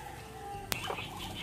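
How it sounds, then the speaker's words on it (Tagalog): Backyard pet chickens and ducks at feeding time give brief clucking and fowl calls, including one sharp close call, set against a faint steady background. "Pakain tayo ng ating mga alagang bibi at manok, no?"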